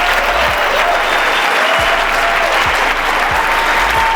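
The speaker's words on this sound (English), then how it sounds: "give a round of applause to Tom Kroll and his team for putting on such a crazy event" A conference audience in Asheville applauds Tom Kroll and his team, dense sustained clapping filling the room with a few low thumps underneath, steady and loud throughout.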